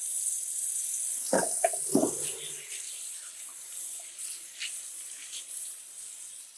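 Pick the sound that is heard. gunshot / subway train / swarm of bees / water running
water running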